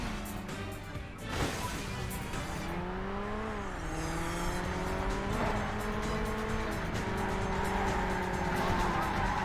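Racing cars in the arcade game Burnout roar continuously with engine notes sweeping up and down, tyre squeal and skidding, plus a sharp crash impact early on, loud and dense throughout.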